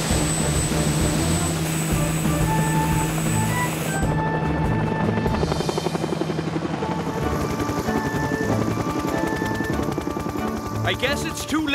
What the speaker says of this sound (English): Not if you go by helicopter.